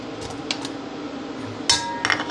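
Tilapia pieces laid into a cooking pot for sinaing with lemon, giving a few light clinks and clatters of metal and crockery close by, with a sharper knock near the end over a low steady kitchen hum.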